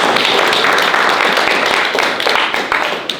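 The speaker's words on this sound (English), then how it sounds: "Let's get a round of applause for Seth, everybody" An audience at a lecture applauds the speaker Seth, with dense, sustained clapping from many hands that fills the room steadily and tapers slightly toward the end.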